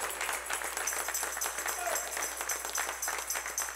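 A church congregation claps together during a sermon, a dense, steady patter of many hands filling the room at moderate distance with no break.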